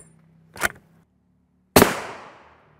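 Two sharp, loud rifle reports ring out, a 300 Winchester Magnum firing at an armor plate on a range, the second shot louder with a long fading echo tail.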